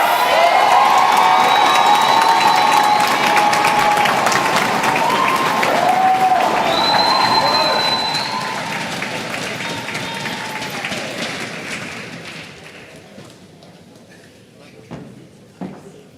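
Crowd at a political party platform launch in the Bahamas applauds and cheers loudly, with whistles and shouts over dense clapping that gradually fades over the second half to scattered claps and near quiet.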